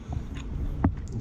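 Someone chews homemade rockfish sushi with soft, close, wet bites and a brief crunchy snap near the end, heard alone without talk.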